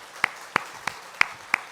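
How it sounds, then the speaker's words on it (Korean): A small church congregation claps for a departing organist at a Sunday service, five sparse, separate claps spaced evenly, faint and without talk. "우리 그 앞날을 위해 박수로 축복하겠습니다"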